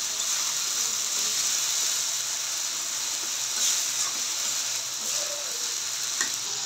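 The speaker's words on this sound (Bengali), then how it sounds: "শুটকিটাকে ভালো করে নাড়িয়ে মিশিয়ে দিতে হবে।" Dried fish being stirred and mixed in a hot pan, a steady close sizzle and hiss with faint scraping of the spoon running throughout, no voices.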